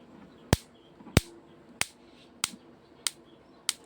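Six sharp, crackling snaps from an electric stun device at irregular intervals, each a brief broadband burst over a quiet hum, fairly close and moderately loud.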